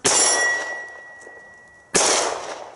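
A .45 ACP 1911 pistol round strikes a steel gong: two sharp, loud metallic clangs about two seconds apart, each ringing with a sustained tone that slowly decays.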